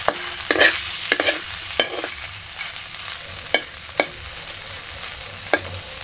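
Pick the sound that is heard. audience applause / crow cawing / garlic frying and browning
garlic frying and browning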